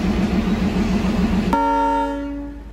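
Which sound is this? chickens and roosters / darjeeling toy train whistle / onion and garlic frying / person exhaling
darjeeling toy train whistle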